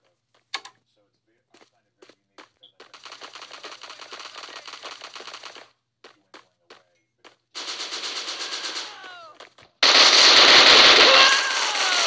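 Automatic weapon fire in the Bullet Force video game, loud and close, with scattered single shots followed by long rapid bursts and a final dense, harsh burst.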